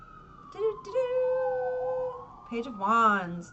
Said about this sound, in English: These sirens kill me.